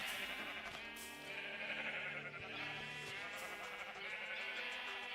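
Sheep in the Minecraft video game bleat in a steady overlapping chorus, several wavering cries layered over constant game background noise at a fairly low level.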